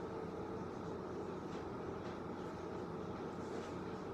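A train rumbles past at a distance, a low, steady, continuous drone with no voices.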